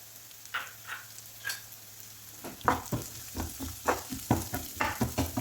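Green chilies and small pieces of carrot sauté in a pan for aval uppuma, a quiet sizzle broken by bursts of scraping and stirring that grow busier and more rhythmic halfway through.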